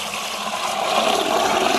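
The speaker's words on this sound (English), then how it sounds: "So I will be adding the water inside now," Water pours steadily into a container for mixing a spray for pepper plants, a continuous splashing gush heard close up with no talk over it.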